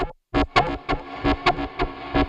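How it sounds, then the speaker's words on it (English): A synth tone from a complex oscillator, swept low to high, fed through a single-tap delay and a multi-delay processor's reverb, plays as a series of bright, distorted plucked hits that repeat rhythmically and bloom into a shimmering tail. "it has a beautiful blooming effect because of the delay time and the pre-delay of the reverb"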